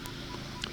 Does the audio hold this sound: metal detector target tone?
yes